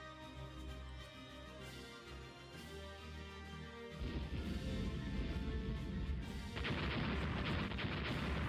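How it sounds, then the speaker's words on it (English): Torpedo explosion in the naval strategy game Rule The Waves, heard as continuous loud booming and crackling gunfire-like blasts that swell partway through and grow harsher and denser toward the end, with no talking. "Torpedo explodes."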